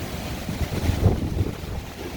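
Hurricane Delta winds at night gusting hard as storm water pushes over the ground, with steady broadband roar and wind buffeting on the microphone, a louder gust surging near the middle, no voices.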